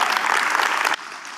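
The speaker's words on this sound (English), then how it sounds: "Round of applause, everyone." A conference audience claps in a dense, steady round of applause that cuts off abruptly near the end, leaving a softer tail of scattered clapping.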